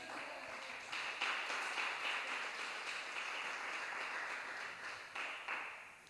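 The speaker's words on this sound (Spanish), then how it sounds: "dele un aplauso al Señor." Church congregation applauding during a Friday evening sermon, a broad steady wash of clapping that holds for about five seconds before tapering off, with no talk over it.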